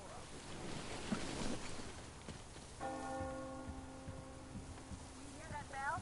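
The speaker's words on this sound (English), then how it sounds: "You hear that bell?" A church bell tolls in the Metro Exodus game, a sustained ringing tone that starts midway and hangs over windy, watery ambience, with a voice speaking at the end.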